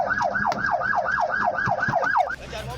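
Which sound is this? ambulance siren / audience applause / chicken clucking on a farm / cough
ambulance siren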